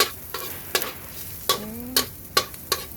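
Garlic frying in a pan for patatim, with a steady soft sizzle broken by about seven sharp spatula taps and scrapes as it is stirred, close and alone.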